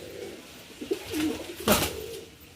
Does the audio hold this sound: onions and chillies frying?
no